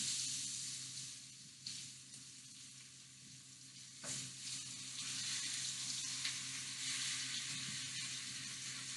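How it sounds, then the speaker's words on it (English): Food sizzles and hisses steadily after being dropped into a deep fryer, a dense, continuous frying crackle with a few small bursts and stirring sounds, fairly close and without voices. "I'm about to throw these things into the fryer"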